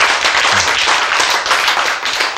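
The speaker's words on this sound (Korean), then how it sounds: "박수 한번 칩시다." A church congregation breaks into steady, dense clapping during a sermon, many hands together at close range, loud and continuous with no talking over it.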